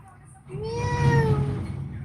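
A person imitates a cat's meow, one drawn-out rising and falling mew voiced close and clear over a low background hum.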